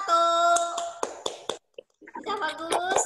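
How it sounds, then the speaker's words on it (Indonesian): Short round of applause in an Indonesian classroom for a student group, a quick burst of clapping that breaks off, then resumes, lasting about three seconds with no talk over it. "beri tepuk tangan dulu untuk kelompok"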